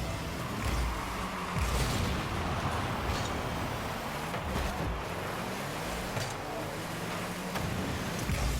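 A car boosting in the video game Rocket League gives off a rushing, whooshing engine roar under game effects, with brief bursts and thumps scattered through a continuous, moderately loud bed of noise.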